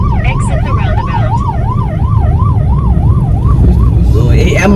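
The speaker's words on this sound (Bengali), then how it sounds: "অ্যাম্বুলেন্স আছে, অ্যাম্বুলেন্স।" An ambulance siren wails on a road in Oman, its rising and falling tone loud and near, repeating steadily over the hum of passing traffic.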